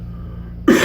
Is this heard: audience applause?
no